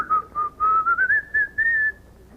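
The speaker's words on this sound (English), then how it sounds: "Now, what fool whistled?" A person whistles a single wavering tone that slides slightly upward in short connected bursts, clear and close, with no talking.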